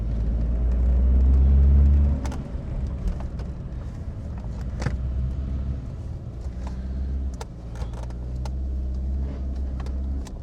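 A car with a freshly forged rebuilt engine running rich, heard from inside while driving; a loud deep engine swell for the first two seconds, then a steady lower drone with intermittent clicks and rattles.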